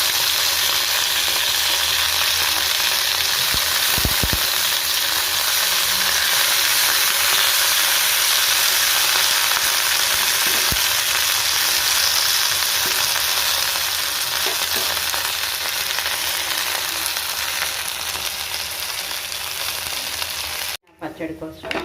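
Green chillies and mint leaves fry in a little oil for a pudina pachadi tempering, giving a loud, steady sizzle that runs unbroken for about twenty seconds and cuts off sharply near the end.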